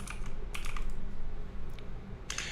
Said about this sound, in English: I'm just going to type the word test here and click enter.